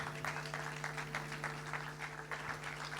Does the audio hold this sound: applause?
yes